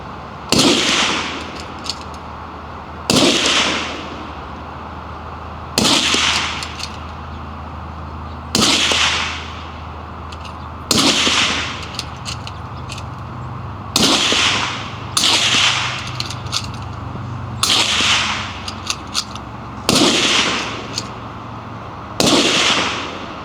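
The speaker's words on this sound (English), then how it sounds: "shooter one, if you can give me 2 shots." Rifles fired through SIG suppressors at an outdoor range, about ten sharp, muffled cracks spaced two to three seconds apart, each loud and close with a short decaying tail, no talking.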